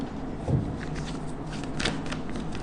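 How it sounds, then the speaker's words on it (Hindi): A deck of tarot cards is shuffled once by hand: a short, close riffle of papery flicks and soft taps lasting a couple of seconds, with no voice over it. "एक ही शफल करेंगे, जिसको भी आना है आ जाए।"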